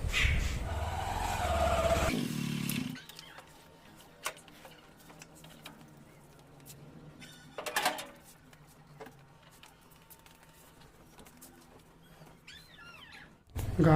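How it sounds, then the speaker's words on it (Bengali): A car is slowly driven into a house: a low, steady engine hum runs under scattered small clicks and ticks, following a brief louder burst at the start. "আগে গাড়িটা ঢোকায়।"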